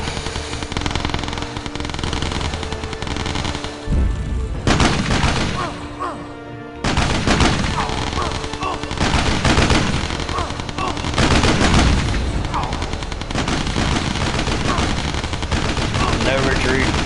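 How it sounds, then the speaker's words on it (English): Sustained machine gun fire and rapid bursts of gunshots in the video game Battle Island, loud and dense, continuing almost without pause with brief lulls. "These guys have to charge this machine gun here in a minute."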